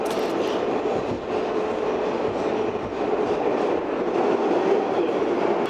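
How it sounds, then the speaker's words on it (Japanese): A New York subway train rumbles steadily throughout, with dense, loud wheel and track noise close by and a faint rhythmic clatter, no voices. "ニューヨークの地下鉄はこんな感じ。"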